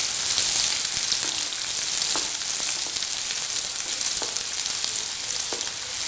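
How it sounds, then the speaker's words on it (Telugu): Dried red chillies and onion fry in hot oil for a curry of cluster beans and brinjal, giving a steady loud sizzle with scattered sharp crackles and pops throughout. "ఎండుమిర్చి, ఉల్లిగడ్డ, ఇది గోల్డెన్ బ్రౌన్ వచ్చే వరకు ఫ్రై చేసుకోవాలి."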